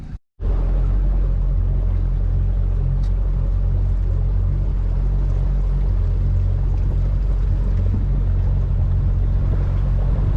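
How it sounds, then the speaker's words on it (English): A Yamaha F50HP four-stroke outboard on a Quintrex Explorer Trophy 420 boat idles as it warms up, giving a steady, close, low droning hum that holds evenly throughout with no talking. "it's always good just to give the motor a bit of time to warm up"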